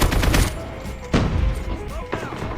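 AK-47 fire in Call of Duty Mobile, loud close bursts of a few rapid shots separated by short gaps, with a player's voice faintly underneath.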